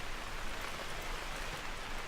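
Rain in the hunting game The Hunter: Call of the Wild, a steady, even hiss of falling drops filling the scene, soft and unbroken with no other sounds over it.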